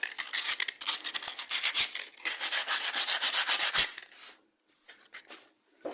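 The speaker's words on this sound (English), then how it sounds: "we're giving a bit of a clean up on that shaft there" Scrubbing and rubbing against a rusty lawn mower shaft during oil seal replacement, a dense, rapid run of close abrasive strokes that stops briefly near the end before a few quieter rubs.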